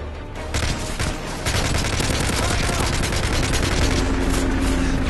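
Sustained rapid gunfire from an aircraft strafing run in Modern Warfare 3, loud and dense with continuous bursts throughout, building slightly after the first second and mixed with battlefield noise.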